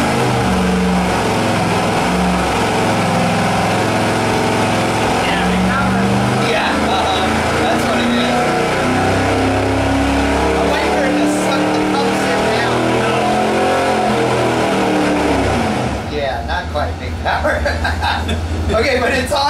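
A wrecking-yard V8 engine on a dyno roars loud and continuous through a long wide-open pull, then drops off to a lower rumble near the end, with people talking over it.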